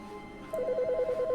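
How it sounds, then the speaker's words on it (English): A telephone starts ringing partway through in The Stanley Parable game, a rapid warbling electronic trill that is close and clear after a moment of quiet room tone. "Oh, it's a phone."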